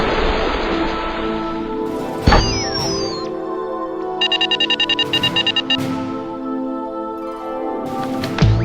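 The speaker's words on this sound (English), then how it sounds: "I just got a phone call." A cellphone ringing in the video game GTA: a synthetic electronic ringtone with repeated pulsing beeps and sweeping tones over a steady musical hum, moderately loud and close.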